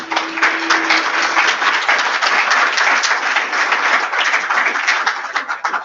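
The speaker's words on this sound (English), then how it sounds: "And let's give a round of applause for Mr. Jim." An audience applauds a speaker at a professional talk, steady dense clapping that fills the whole stretch at even loudness, with no voices over it.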